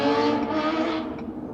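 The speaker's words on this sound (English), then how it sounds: "I don't know why these guys are revving their bikes." Motorcycles rev on a 35-mile-an-hour street, a brief, loud engine roar that rises and then eases off over a second and a half.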